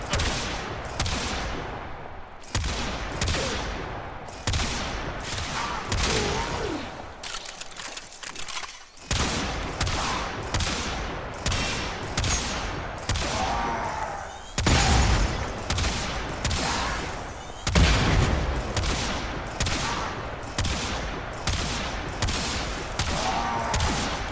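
Bombard weapon firing in the video game Warframe, a rapid series of loud, punchy blasts in uneven bursts, with a short pause early on and a few heavier booms later.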